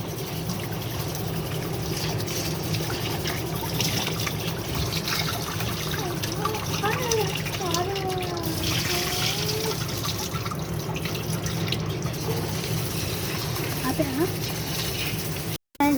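Water runs and trickles steadily, with soft splashing as biryani rice grains are swished while being washed, while a voice talks over it throughout.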